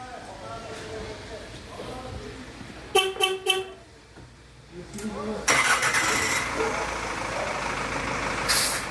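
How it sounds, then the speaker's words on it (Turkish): A few quick horn toots from a 2005 Kia Sorento, a brief pause, then its engine turns over by remote start and settles into a loud, steady idle. "Aracımız çalıştı."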